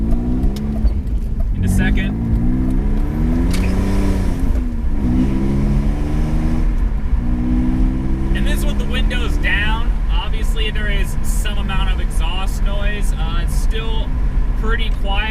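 A BMW E46 with its muffler deleted accelerates hard, the raspy exhaust note climbing steadily in pitch through the revs, dropping briefly at a shift, then rising again, loud and close throughout.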